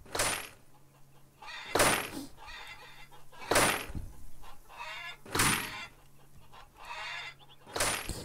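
Chickens cluck softly in the farming video game Farmers Dynasty, intermittent and fairly faint, broken up by loud recurring bursts of noise at regular intervals.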